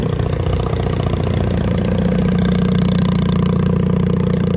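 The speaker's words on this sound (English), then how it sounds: "Fucking GTRs, loud ass exhaust." A GT-R engine rumbles at a steady, deep idle at a raceway pit, with a loud, throaty exhaust burble and slight clatter, close and loud throughout, with no voices.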